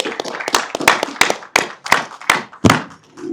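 Applause from a small group at a basketball press conference, a short burst of scattered, uneven claps and thumps heard close up.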